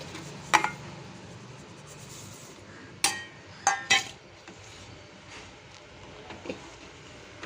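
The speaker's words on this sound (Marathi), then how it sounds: "आता आपण ह्या गरम दुधामध्ये ह्या शेवया घालणार आहोत." Vermicelli goes into hot milk in a metal pan for kheer. Several sharp clinks and clatters of utensil against pan sound close by over a quiet background, with softer scraping between them.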